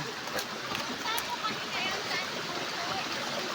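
Gubawen Falls waterfall and stream rushing in a constant broad hiss of falling water, fairly soft and steady throughout with voices faintly over it.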